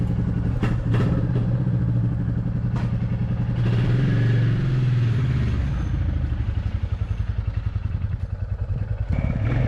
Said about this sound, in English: a 4-stroke, single-cylinder engine thumping away beneath me